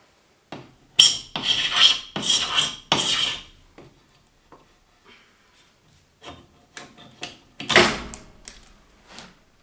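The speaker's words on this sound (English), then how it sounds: "The second method I found was to use a paint scraper and scrape with a paint scraper." Paint scraper dragged over wood to lift cured construction adhesive, making a run of harsh, loud scraping strokes close by, three bursts early and another after a quieter stretch of small clicks and taps.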